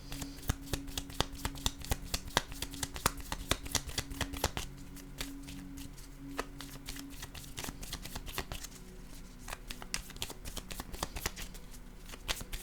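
Playing cards are handled and laid down on a table, a long run of crisp, close snaps and flicks in irregular rhythm with a faint hum underneath.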